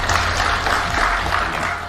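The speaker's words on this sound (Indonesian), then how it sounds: "tepuk tangan dulu." A crowd applauds steadily at a public talk in Indonesia, a dense, even clatter of clapping hands that holds for about two seconds and fades slightly at the end.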